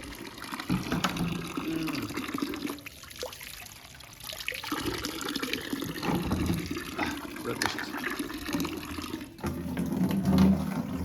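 Water pouring steadily from an Evian spring tap into a container, a continuous rushing and trickling flow that swells louder toward the end.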